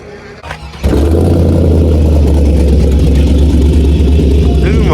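An LS3-swapped 1975 Chevrolet Caprice convertible cranks briefly and then catches into a loud, steady, deep idle that rumbles on up close.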